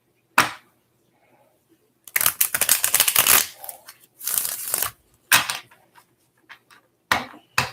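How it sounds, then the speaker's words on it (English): A tarot deck shuffled up close in quick bursts, a sharp riffle, then a longer run of fast fluttering card slaps, followed by a few shorter flicks and taps. "Let me give you a good shuffle."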